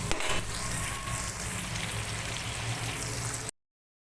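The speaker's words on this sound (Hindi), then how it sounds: "हम इस तरीके से आलू को पलट लेंगे और दूसरी साइड से भी इनको फ्राई कर लेंगे" Potato pieces fry in a pan for an aloo baingan dish, a dense close sizzle and crackle about three and a half seconds long, then sudden silence.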